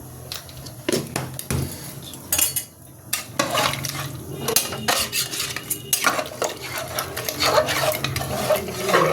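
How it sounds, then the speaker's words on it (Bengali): Mutton curry stirred in a pot with a metal spoon, repeated loud scraping and clanking strikes against the metal in an irregular rhythm, with a light sizzle underneath. "আবারও ভালো করে নেড়ে দিচ্ছি কেননা যাতে না কলায় লেগে যায়"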